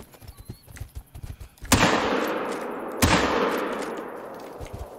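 Two sharp rifle shots crack about a second apart in the video game theHunter: Call of the Wild, each followed by a lingering echoing tail, over faint rhythmic background thuds.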